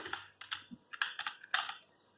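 Fingers tap out an irregular run of about a dozen crisp clicks on a computer keyboard, close and fairly quiet, with no talking over them.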